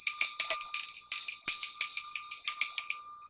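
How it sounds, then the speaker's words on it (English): A small bell rung several times in quick succession, each bright, ringing strike sounding clearly and close with no talk over it. "Let's ring our bell."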